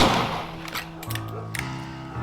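Rifle shots at shooting practice in Red Dead Redemption: a few sharp, brief cracks spaced about half a second apart, sitting over a steady bed of tonal background music.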